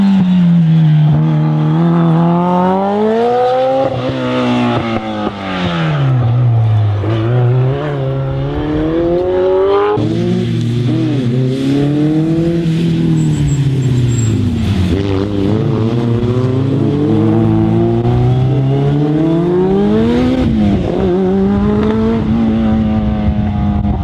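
A Ford RS200 Group B rally car engine from the 1980s, loud and close, revving up and down in repeated sweeping waves through the gears for the whole stretch, with no talking.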